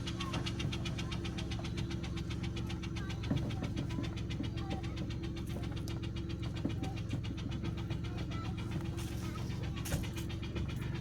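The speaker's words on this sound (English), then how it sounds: "I have a rocker or lifter loose in there" A car engine with a loose rocker or lifter runs with a rapid, regular ticking over a steady low hum, close and continuous, on a drive along Pennsylvania backroads.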